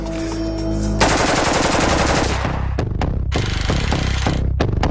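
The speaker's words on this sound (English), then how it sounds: "Okay, we're gonna do a little full auto fire." An AK Kalashnikov rifle fires on full auto, with loud close rapid bursts, then a pause and a few separate single cracks and short strings of shots.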